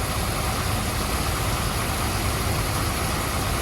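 A car engine idles steadily after repair work on an oil leak, a constant close rumble running the whole time with no voices.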